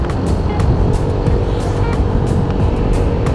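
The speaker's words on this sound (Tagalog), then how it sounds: "dito San Juan may traffic" Close, loud road traffic in San Juan on a hot, congested day: a constant rumble of engines with vehicles repeatedly passing nearby, producing rhythmic whooshes throughout.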